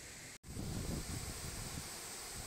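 The Lata Bunta waterfall roars at night beside a riverside campsite, a steady, broad rushing wash that follows a brief dropout and continues evenly with no voices.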